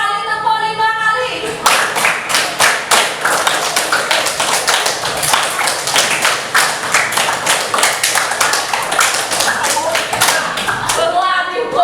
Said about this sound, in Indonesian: 5 kali tepuk 5 kali